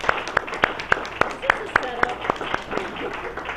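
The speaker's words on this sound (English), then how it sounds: "would you like to come give her a round of applause?" A single pair of hands clapping in a steady, even rhythm of about a dozen sharp claps, close and distinct, in a meeting room for a district director, thinning out toward the end.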